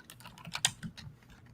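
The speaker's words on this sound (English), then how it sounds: "Hold on, I'm just typing here." Fingers type on a computer keyboard, a faint, quick burst of clattering keystrokes with one sharper tap near the middle and no talking.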